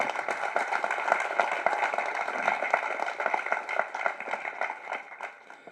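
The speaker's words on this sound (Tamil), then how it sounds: "இந்த அரங்கமே அதிர மாதிரி அப்பாவுக்கு பலத்தை கரகோஷம் கொடுங்க" Auditorium audience at a speech event about parai music applauds, a dense patter of many hands clapping at moderate loudness that slowly fades toward the end.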